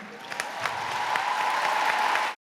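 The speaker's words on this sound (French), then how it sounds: "un tonnerre d'applaudissements pour leur courage" Steady, dense applause from an audience honouring people for their courage, even and sustained at moderate volume, then cutting off abruptly at the end.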